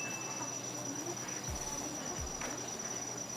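Crickets kept in a small cricket box chirp continuously in a thin, high, steady trill, close by and fairly faint, with a couple of soft low thumps.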